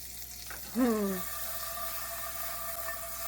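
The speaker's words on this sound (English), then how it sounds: "the reason I wanted to do these in a skillet is because I'm going to take butter." Butter sizzles softly in a skillet with small biscuits, a faint, steady hiss with a brief squeak near the start.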